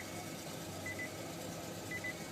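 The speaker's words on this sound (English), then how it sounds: "this car does have a backup beep, like an alert" Two faint, short electronic beeps from a 2012 Nissan Leaf reversing alert sound about a second apart over a steady low hum, near but quiet, with no voices.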